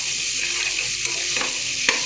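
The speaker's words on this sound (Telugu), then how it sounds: "అది కూడా బాగా వేగాలన్నమాట. నూనె పైకి తేలాలి." Ginger garlic paste fries in oil with spices, producing a steady close sizzle broken by a couple of brief stirring scrapes toward the end.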